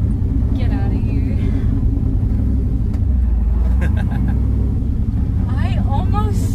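A 1969 Camaro with a turbocharged LS engine and six-speed manual rumbles loudly and steadily as it drives and pulls in, its engine drone continuous under people talking inside the car.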